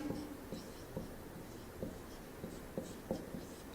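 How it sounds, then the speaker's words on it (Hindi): Faint scratchy strokes of writing on a board during a biology lesson come in short, irregular bursts, each mark brief and quiet against a soft room hiss. "मैं यहाँ लिख देती हूँ"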